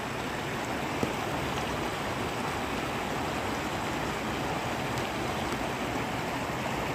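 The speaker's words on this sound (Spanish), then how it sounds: "lo que me llama la atención es el agua viene directamente de la montaña" Mountain water of the Munzur river flowing straight out of the mountain, a steady broadband rush of moving water, even and continuous with no other sounds.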